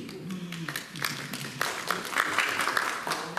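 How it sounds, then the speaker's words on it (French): Applause from attendees at a town council meeting, a steady patter of clapping building over a few seconds with faint voices mixed in. "On peut l'applaudir."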